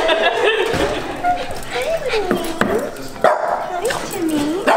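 Several puppies yip and bark in short, high bursts, some whimpering between, while people chatter and talk excitedly over them.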